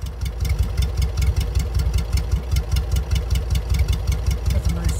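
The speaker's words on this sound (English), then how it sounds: "That's a nice little sound with the old Prasso reproduction muffler." A 1967 Karmann Ghia coupe engine with a reproduction muffler, idling with a steady, quick, throbbing air-cooled putter, close and even, with no talk.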